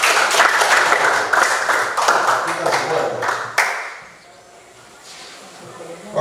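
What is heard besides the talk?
classroom clapping hands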